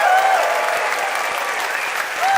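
Steady applause from an audience voting by applause at a comedy debate show, loud and sustained throughout with dense clapping and no clear pauses.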